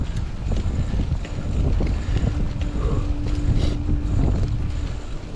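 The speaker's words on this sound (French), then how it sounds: "Je sais pas si vous entendez, mais il y a du vent." Wind blowing during a bicycle ride on Île de la Barthelasse, recorded on a GoPro Hero 9 Black, roaring steadily across the microphone in gusts, loud and close, with faint rattles and a tractor-like hum underneath.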